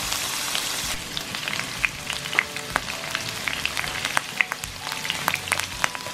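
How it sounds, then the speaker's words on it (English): Small peeled, deveined shrimp sizzle steadily in a hot pan, a dense continuous crackle with scattered sharper pops throughout, close and fairly loud, no voices. "let's fry our shrimp"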